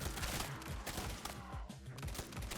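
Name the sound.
gunfire in a roguelike video game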